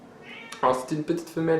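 A male cat grumbles and meows in a few loud, close, drawn-out vocal bursts, while someone speaks in French over the cries.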